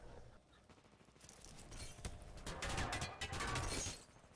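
Exchange of gunfire between two players in a Titanfall 2 capture-the-flag match on PC, heard as dense, rapid bursts that swell in loudness toward the end and blend into a continuous roar.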